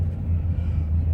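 A 2014 Nissan GT-R running on E85 during a drag race, a steady deep engine rumble heard at a distance for about a second, with no voices.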